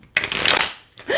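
Tarot cards being shuffled by hand during a live reading, a close, loud riffling burst, a short pause, then another bout of shuffling starting, with a faint voice under it.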